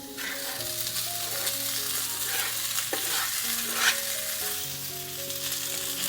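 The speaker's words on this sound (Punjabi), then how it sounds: "ਤੇ ਆਲੂ ਹੋਰ ਪਿੰਡੀਆਂ ਨੂੰ ਆਪਾਂ ਮਿਕਸ ਕਰ ਦਵਾਂਗੇ" A spoon stirs potatoes and okra together in a hot pan over a low gas flame, with a steady sizzle of frying and scraping stir strokes, while soft tonal background music plays underneath.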